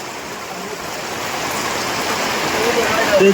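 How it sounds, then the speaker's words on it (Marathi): Rainwater runs off a tarp into pots and buckets during an all-night downpour on a farm, a steady close wash of pouring water and rain that swells slightly toward the end. "हे पाणी आम्ही प्यायला असं धरतो पावसाचं"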